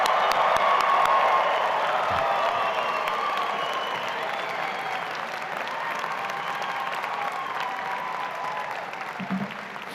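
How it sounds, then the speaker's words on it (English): Graduates applaud at a university commencement ceremony, a dense, sustained roar of clapping from a large crowd with scattered cheers, fading slightly over several seconds. "give yourselves a big round of applause for this accomplishment"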